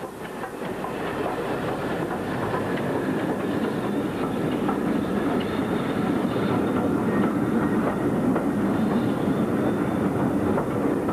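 BR Standard Class 4 Mogul steam locomotive 76017 runs with its train, a steady rumble with rhythmic clickety-clack of wheels over rail joints and a faint squeal, heard from moderately close and continuing throughout.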